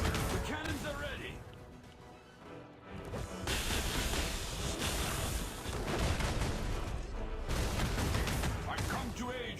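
Cannons fire in a mobile video game battle as a dense, roaring barrage of booming blasts and crashes that rolls on continuously, dipping briefly before surging back loud.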